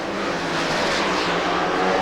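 NHRA drag race cars at the 1994 Sportsman Challenge in Houston, Texas launch side by side in a semifinal, a loud, steady, broadband engine roar filling the whole stretch without a break.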